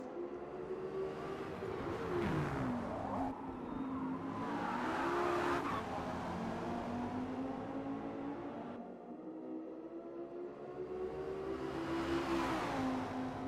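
Race cars powering out of a hairpin in a racing game at Daytona, engines rising in pitch through the gears as several cars pass, with faint tire squeal and a brief dip before another car roars closer.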